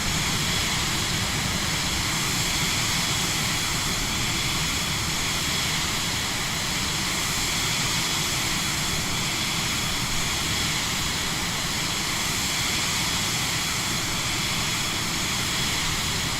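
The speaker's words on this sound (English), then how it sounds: "I wouldn't even call it a private jet, it's more of a personal jet." Steady, loud jet engine drone of a Cirrus Vision Jet personal jet in a flight simulator game, a continuous broadband roar holding level throughout with no talk.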